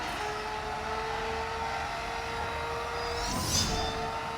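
Racing car engine in the video game NFS No Limits: a steady high tonal whine held at speed, with a brief whooshing pass near the end, no talk.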